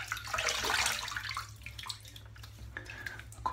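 A tap runs into a sink as a face is rinsed after shaving, a close, soft, steady water flow with splashing that fades slightly after the first second.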